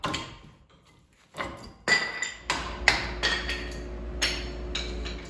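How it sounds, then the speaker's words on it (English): Metal screwdriver tapping and prying old front brake pads out of a caliper on a 2007 Honda Pilot, a series of sharp, close metallic knocks and pings at irregular intervals, with a low hum underneath. "I'm just going to use a screwdriver to pop these brake pads out"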